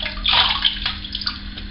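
Running water splashes from a tap as alum is rinsed off a face during a wet shave: a close, continuous hiss and splatter with brief surges, no voices.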